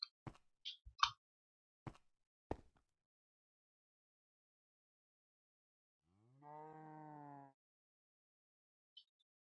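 Cow mooing in the video game Minecraft: one sustained, clear moo in the middle, with a few short clicks and ticks from the game before it and near silence elsewhere.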